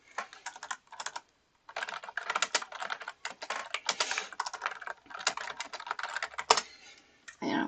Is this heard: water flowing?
no